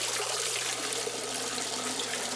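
Water from a turtle enclosure's filter outlet splashes steadily and loudly into the tank, a dense continuous rushing with no breaks and no voices.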